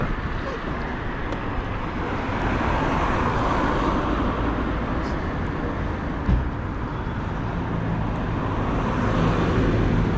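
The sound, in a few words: cars driving past on the road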